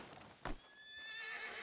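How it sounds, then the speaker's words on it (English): A horse neighs in Red Dead Redemption 2, a single whinny with a sharp burst followed by a long, trailing tonal call over steady game ambience, fairly faint. "God, my horse is really old."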